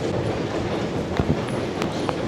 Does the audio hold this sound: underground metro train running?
yes